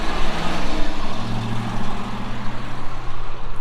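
A heavy truck rumbles past on a busy road, loud and close, with a continuous engine drone and a dense wash of traffic noise filling the whole stretch.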